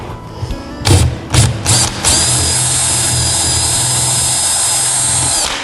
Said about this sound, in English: drill through the bed face